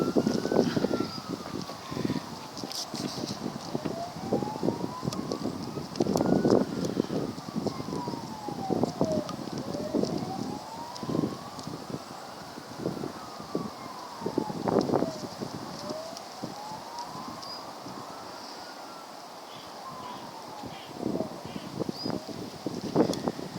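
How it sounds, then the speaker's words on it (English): Wind rushes and buffets the microphone, with a wailing siren rising and falling repeatedly in the distance. "It'd be quite windy though, I'll pre-warn you"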